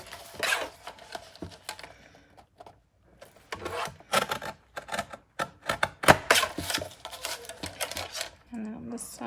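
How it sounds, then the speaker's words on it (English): A paper trimmer cutting the sides of a card, heard as a quick series of sharp clicks and scraping taps that come in bursts with short pauses, close by, with a brief voice near the end. "And we need to trim off on the sides."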